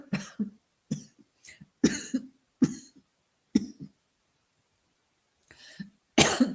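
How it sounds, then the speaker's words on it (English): A person coughs repeatedly, a series of short dry coughs spaced about a second apart, then a pause before a louder final cough. "although I have a cough"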